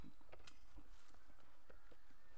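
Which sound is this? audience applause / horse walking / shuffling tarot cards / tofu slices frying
horse walking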